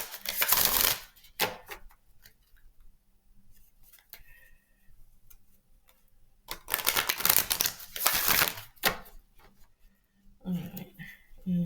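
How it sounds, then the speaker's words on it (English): A deck of tarot cards is shuffled in two loud riffling bursts near the start and again in the middle, separated by quieter handling clicks and taps, with a voice speaking briefly. "So let me shuffle and pull the numerology."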